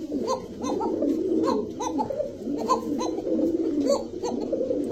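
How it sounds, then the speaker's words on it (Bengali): A caged pigeon, one of a pair of fancy breeds offered for sale, coos in repeated soft throaty phrases at a steady rhythm, close and clear with no talking over it. "রিয়াদ ভাই ভাই মানুষের কবুতর বলে খাঁচায় ডাকে না, আমি ডাকে দেখাই দিলাম ভাই"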